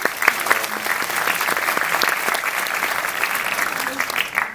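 A cinema audience at a film preview screening in a UGC theatre in Lille claps in loud, steady, continuous applause that fills the room and fades right at the end.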